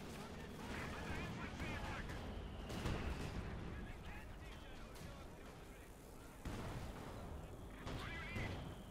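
Artillery and gunfire from a Company of Heroes battle between Soviet and Wehrmacht forces, with a Brumbar assault gun under fire from a ZiS field gun: dense, continuous booming and cracking with heavy impacts around three and six and a half seconds.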